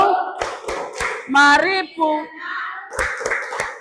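A group of children in a classroom claps in rhythm to a spoken chant, with crisp, close claps between bursts of sung and spoken words.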